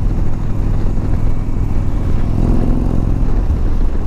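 An Indian motorcycle accelerates up a highway, a loud close engine roar with a deep rumble and wind rush that holds steady for about four seconds.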